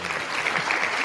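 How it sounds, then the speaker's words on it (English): Audience applause, a dense burst of clapping that holds steady for about a second, fairly loud and close. "clap it up for Sammy."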